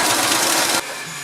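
A sewing machine stitches through a thick bimini fabric seam, a loud continuous mechanical whir that runs steadily and then drops abruptly to a quieter hum near the end.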